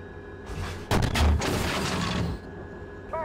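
A Challenger 2 tank main gun fires a HEAT round on a range in the Steel Beasts Pro simulator: one loud, sharp close blast followed by a rolling boom that fades after about two seconds.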